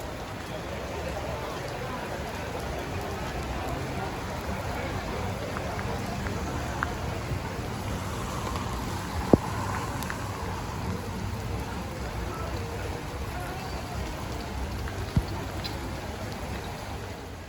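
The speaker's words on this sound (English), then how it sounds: "What to do with the rain." Rain falling during a walk through Ca'n Pastilla, Mallorca, a steady soft hiss of drops on wet ground with a few sharper taps, continuous and close at moderate level.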